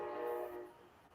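A distant train horn sounds near a station, a sustained harmonic blast that holds steady, then fades and thins out over about a second.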